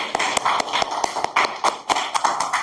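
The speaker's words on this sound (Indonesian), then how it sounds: "Berikan aplaus dulu teman-teman kalian." Students applauding in a classroom, a short burst of quick, crisp claps, close and fairly loud, with no talk.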